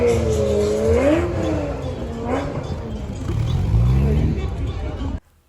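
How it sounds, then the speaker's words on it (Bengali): At an outdoor vintage car and bike show in Italy, a vintage car drives past nearby, its engine rising and then fading as it goes, with people talking over it. "জাস্ট আপনারা শুনতে পেলেন যে গাড়িটা কত সুন্দরভাবে এখানে সাউন্ড শুনে আমাদেরকে চলে গেল"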